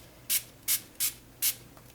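Four quick, crisp spritzes from a pump bottle, evenly spaced and close by, with nothing else but a quiet background.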